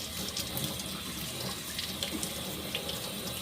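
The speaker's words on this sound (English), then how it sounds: "I'm going to go ahead and turn this water off." Tap water runs steadily into a sink, a constant close splashing rush with small irregular splatters as acrylic yarn is rinsed under the stream.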